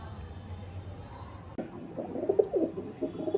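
Pakistani Teddy pigeons, a Teddy 128 pair, give soft low cooing calls close by after a faint murmur of background noise.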